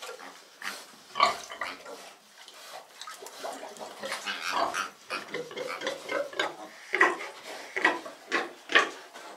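Pigs and sows in a barn squeal and grunt in repeated loud bursts, one sow especially noisy, with shuffling and feeding sounds between the calls and no talk.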